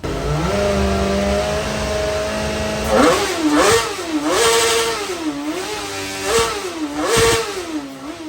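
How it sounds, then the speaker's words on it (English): A car engine, just reassembled, with low compression on cylinder number 2, cranks and catches, then runs with several sharp revs rising and falling over a steady idle, close and loud. "We put everything back together and started the engine up, and it sounds great."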